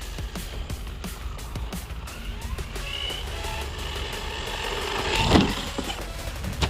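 A small UDIRC UD1201 radio-controlled car whirs continuously as it drives and jumps, its electric motor whine rising and falling with a louder surge near the end, heard up close with no talking.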